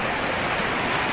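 Watu Krapyak waterfall, a natural cascade in a village, pours as a dense, even rush of falling water, loud and close, steady throughout with no voices.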